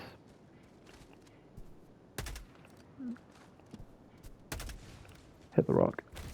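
Gunfire in the video game Helldivers 2, a few sharp shots and short bursts scattered among quieter game ambience, with a loud flurry near the end and some talking in between.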